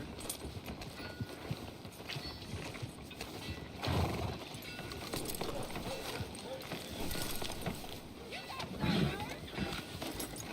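Horse hooves clip-clop in a western-style video game, a faint steady plodding rhythm under ambient game sound and occasional voices.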